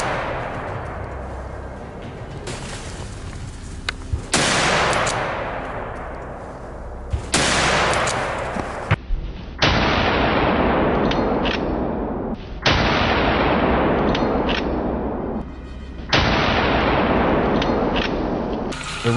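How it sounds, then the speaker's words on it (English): Loud, dense bursts of gunfire at a herd of wild boar in woods, in several long volleys separated by brief sharp breaks, with heavy rumbling echo throughout. "a rapid burst of gunfire erupts, taking down the two fattest beasts."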